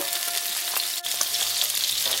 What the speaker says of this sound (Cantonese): 皮向下，仍然喺個大火度，就先煎佢分半鐘